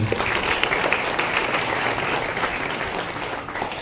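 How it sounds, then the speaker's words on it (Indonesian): Loud, dense applause from a school audience at a high school campus event, a crowd clapping steadily throughout and tapering slightly at the end. "Tepuk tangan untuk kamu semua."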